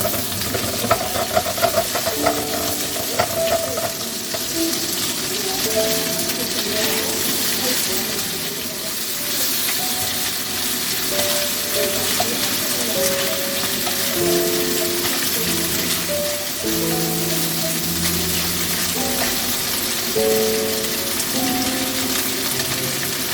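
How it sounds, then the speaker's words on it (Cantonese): Pork neck sears undisturbed in a pan, giving a continuous, even sizzle that runs steadily the whole time beneath soft background music. "滿面煎佢2-3分鐘到啦，唔好喐佢。 我哋等佢釋出啲豬油"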